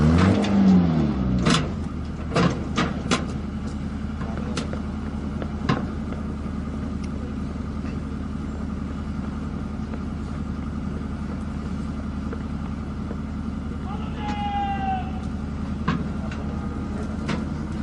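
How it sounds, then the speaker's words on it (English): A 12-ton towed howitzer is driven slowly on its auxiliary power unit, giving a steady low engine rumble throughout, with a few sharp clanks early on and a brief faint whistle-like sound near the end. "Using the auxiliary power unit, the gun can move at a maximum speed of 7 kilometers per hour."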